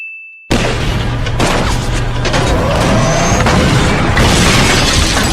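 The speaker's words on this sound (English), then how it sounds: "did he literally intend on shooting out a window?" A tank firing its cannon and shooting out a window, a sudden loud blast after a brief quiet tone, followed by sustained crashing, rumbling debris noise.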